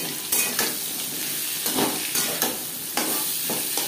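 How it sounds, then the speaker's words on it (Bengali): Chopped onions hit potatoes frying in a pan, with a steady loud sizzle broken by repeated scraping and clattering stirs at an uneven rhythm, close up and free of talk. "এখানে আমি 2টো পেঁয়াজ কুচি করে অ্যাড করলাম"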